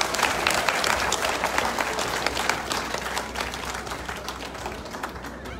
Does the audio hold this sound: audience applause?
yes